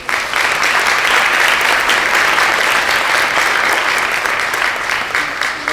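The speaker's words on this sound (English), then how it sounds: "Big round of applause." An audience at a startup festival panel breaks into loud, dense applause that swells quickly and holds steady for several seconds before tapering slightly.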